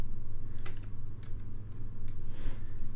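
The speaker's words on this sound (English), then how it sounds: "press U on the keyboard" A computer keyboard is pressed while editing a disintegration animation, giving a few sharp, separate key clicks spaced across a few seconds over a steady low room hum.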